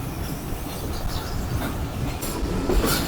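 Karakoram Express passenger train running on rails in Pakistan, a steady loud rumble and rattle of wheels heard from inside the moving train, with faint squeal near the end and no talking.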